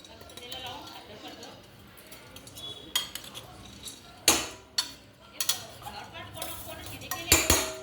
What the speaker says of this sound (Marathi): आता आपण मूग डाळ भाजून घेऊयात.